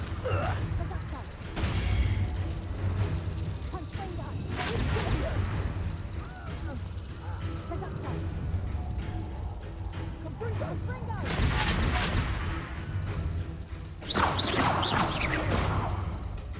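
Repeated booming spell blasts, Confringo and Reducto, in the Hogwarts Legacy video game, landing as heavy explosive bursts in quick succession over a dense battle din, with voices calling out.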